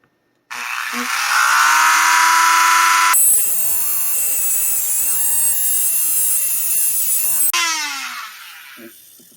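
A metal Moonswatch watch case being cut with a power tool, a loud whining high-pitched buzz that shifts tone as the blade bites the metal, then winds down near the end.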